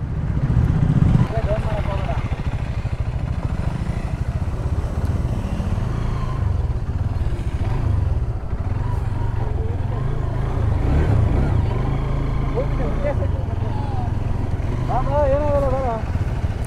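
A motorcycle rides through a water crossing, its engine running steadily and close, rumbling throughout while a rider talks over it in bursts.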